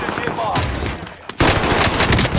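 Dense automatic gunfire and explosive bursts in the Call of Duty Modern Warfare video game, loud and continuous, briefly dipping before a heavier barrage resumes.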